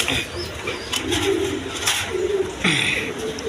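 A pigeon suffering from paralysis coos in low, throaty rolls amid rustling and handling noise as it is taken out, with a few sharper bird calls breaking through.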